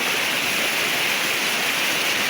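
Floodwater rushes across a farm field in a steady, dense wash of noise, close and continuous with no voices.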